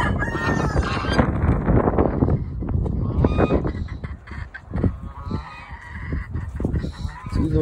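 Americana chickens, the breed that lays blue eggs, cluck and call steadily in a busy yard flock, with honk-like fowl calls mixed in. The calls sound close and overlap throughout, with no talk.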